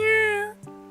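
A person imitates a cat's meow, a single tonal nya-like call that rises, holds and fades, followed by a shorter soft trailing note, loud and close.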